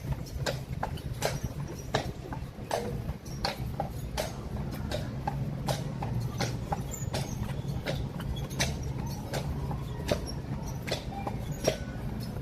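Horse hooves clip-clop in a steady, even rhythm as a horse pulls a carriage on a resort ride, the hoofbeats crisp and close over a constant low rumble of wheels.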